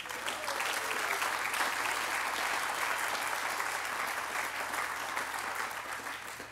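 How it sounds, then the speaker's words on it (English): Crowd applause at a ribbon cutting ceremony for a new track and field center, steady dense clapping from a large group sustained for several seconds at even loudness. "Give yourselves a round of applause."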